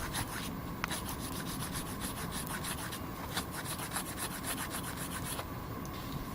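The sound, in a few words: filing with single cut file of Ozark Trail multitool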